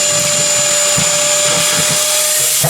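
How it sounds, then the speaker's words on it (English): A shop vac roars steadily and loudly throughout, its motor whine constant and close, the hose partly plugged with a plastic wrapper. "It appears one of my kids decided to use my shop vac for something else."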